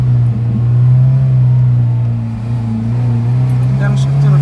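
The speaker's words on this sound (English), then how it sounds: "Downshift to the first." A Honda Civic FA5 downshifting into first gear gives a steady, loud engine drone heard from inside the car, with a slight dip in level midway and no clear rev spike.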